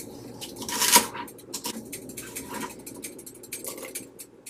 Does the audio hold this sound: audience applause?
no